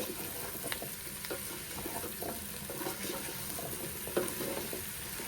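Pumpkin curry stirred in a pan, giving a continuous wet sizzling and scraping texture with soft irregular clicks of the utensil against the pan, steady and close.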